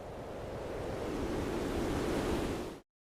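Ocean waves and wind while sailing off Indonesia, a dense, steady wash of surf and gusting wind noise filling the air, close and constant before cutting off abruptly.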